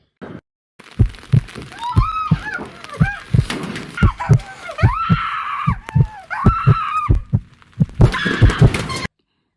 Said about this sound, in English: we added in a slow heartbeat. With each clip, the heartbeat begins to increase.